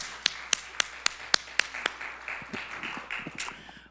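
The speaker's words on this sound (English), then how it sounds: "Let's give a big, appreciative round of applause to Kev Choice and Amy D." A church congregation claps for musicians, starting as a few sharp, separate claps and then thickening into a short, moderately close burst of applause.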